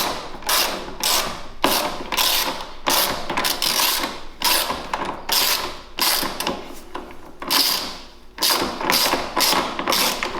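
A ratchet wrench loosens bolts on a Kawasaki KFX 700 quad in rapid, rhythmic clicking bursts that carry on steadily and close up, broken by brief pauses.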